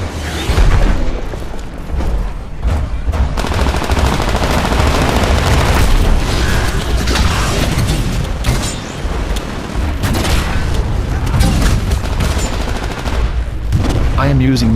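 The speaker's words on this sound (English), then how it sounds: "I am using the triple threat as the primary Titan weapon, which basically fires 3 grenades at a time" A Titan's triple threat grenade launcher fires in Titanfall, loud dense bursts of booming blasts and explosions rolling continuously amid heavy combat noise.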